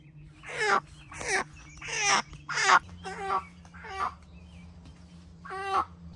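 A chicken held with its wings pinned down before processing lets out a series of about eight loud, harsh squawks spaced roughly a second apart, close by, over a low steady background hum.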